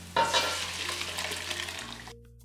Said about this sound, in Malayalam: ഇനി ഇതിലേക്ക് കുക്കറിൽ വേവിച്ച് വെച്ചിരിക്കുന്ന വെജിറ്റബിൾസ് ഒഴിച്ച് ഇളക്കി കൊടുക്കാം